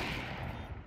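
Faint gunfire in a Counter-Strike esports match, a brief crackling burst of shots that blends into dense background noise at low volume, no speech audible.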